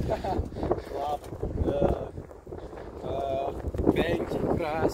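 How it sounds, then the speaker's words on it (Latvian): Gusty wind buffets the microphone outdoors in Ikšķile, Latvia, with a steady low rumble running throughout beneath people talking. "Man liekas, ka te ir vējuši un tevi pat pilnībā nedzirdēs"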